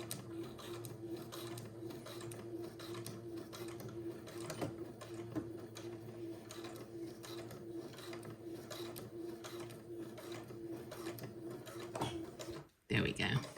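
A sewing machine tacks elastic in place, running forward and backward with a steady mechanical whir and rapid needle chatter, close and continuous, stopping abruptly near the end.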